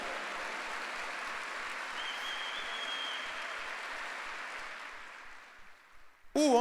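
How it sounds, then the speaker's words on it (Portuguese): Congregation applause during a church service, a steady, fairly soft wash of clapping from a large group that fades out after about five seconds before a voice begins. "dê um aplauso a Ele"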